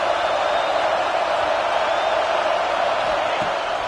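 A football stadium crowd roars continuously at a college game between Oklahoma State and Clemson, a dense, steady wall of cheering heard at a distance with no distinct voices standing out.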